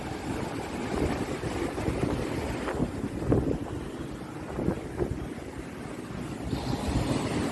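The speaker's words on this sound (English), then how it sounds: "It's so windy" Strong wind buffets the microphone in steady roaring gusts by the ocean, with surf washing beneath it near a bridge; no one talks.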